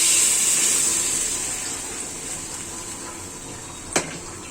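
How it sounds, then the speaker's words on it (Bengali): Chicken stock poured into a hot pan of spice-fried chicken for a raw jackfruit curry gives a loud, bright hiss that slowly fades, ending with one sharp clink of a utensil. "আমি এখন এটা রেখে চিকেনের জলটা দিয়ে দিচ্ছি"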